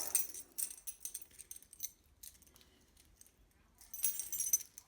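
Metal car keys for a Cadillac Eldorado jingle and clink in scattered bursts close by, pausing briefly before a final louder rattle.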